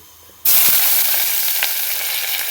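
Crushed garlic and shallots dropped into hot oil with popped mustard seeds for a banana flower thoran, bursting into a sudden loud, steady hissing sizzle after a brief quiet start.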